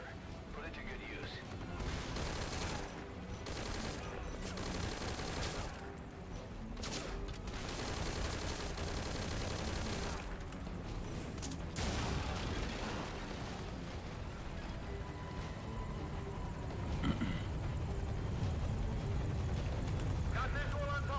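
Dense gunfire and grenade-launcher blasts from a rifle in Metal Gear Solid V: Ground Zeroes, with rapid shots and heavy explosions running continuously under spoken dialogue.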